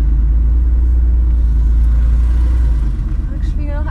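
Porsche 964 Carrera 2 with a manual gearbox, an older car, its engine giving a deep, steady rumble from inside the cabin that eases slightly near the end, with a person speaking over it.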